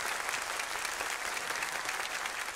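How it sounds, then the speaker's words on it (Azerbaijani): A television game show studio audience claps, a dense even patter of many hands heard moderately faint and steady throughout. "Alqışların səsi yavaş-yavaş zəifləyir."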